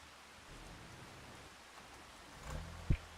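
Steady rain falls in Farming Simulator 25 on the Riverbend Springs map, a soft continuous hiss that swells slightly near the end, with a short low thump just before it fades.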